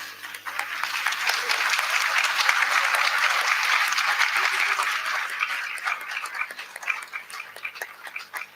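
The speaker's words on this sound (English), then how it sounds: "A big round of applause" An audience of students at an agricultural symposium claps continuously for a certificate presentation, a steady wash of applause that tapers off toward the end.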